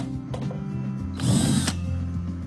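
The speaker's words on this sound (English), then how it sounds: "a 2-inch hole saw drill bit to drill out the holes in the lid of our bucket" Power drill fitted with a 2-inch hole saw bit cutting through a plastic bucket lid, a close whirring grind that swells louder for about half a second amid lighter motor buzz.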